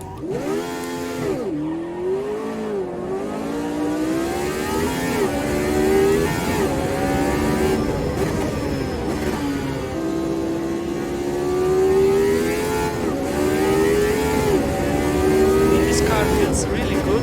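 A Lotus 79 Formula 1 race car in the Automobilista 2 racing game roars loudly throughout, its engine note rising and falling steadily as it revs through corners, with no talking.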